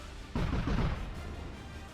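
A gun or cannon fires in a vehicle combat video game, giving one loud, close, booming blast that decays into a rumbling tail.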